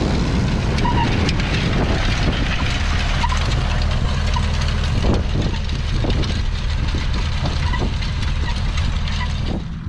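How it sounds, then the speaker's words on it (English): A tractor pulls a one-pass cultivator across lumpy wet soil, its engine a loud, steady rumble throughout with faint rattles and knocks. "So I'm going over it now with one pass cultivator"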